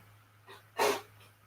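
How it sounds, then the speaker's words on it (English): A single sneeze from an adult with a runny nose, preceded by a brief sharp inhale and then a sudden, loud burst of breath, close to the microphone, with a faint steady hum underneath. "I do need to because I'm about to sneeze."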